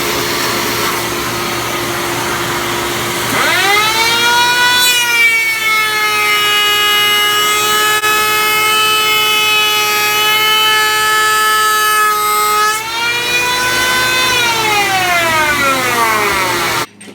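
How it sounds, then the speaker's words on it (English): An electric hand planer flattens a joint in glued walnut and hard maple for a chess knight bottle stopper. The loud, close motor whine spins up, holds a steady high cutting roar for about nine seconds, then winds down. "here I'm using my electric hand planer to make sure that the joints are"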